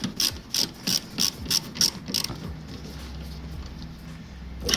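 A ratchet wrench tightens the rear brake caliper bolts on a 2005/06 Honda Civic, giving about eight evenly spaced, close metallic clicks. A low steady hum continues after the clicks stop.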